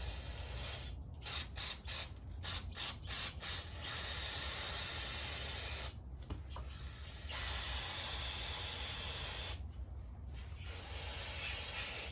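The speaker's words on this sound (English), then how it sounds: "let's get some brake clean and start this off" Brake cleaner sprays onto a Honda Express NC50 moped in a loud, close hiss, first as a string of short bursts, then as long continuous blasts with a few brief gaps.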